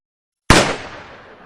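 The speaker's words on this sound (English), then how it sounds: "Fire photon torpedoes" A photon torpedo launch effect: a single sharp, loud blast that bursts from silence and then fades into a long decaying rumble, with no voices.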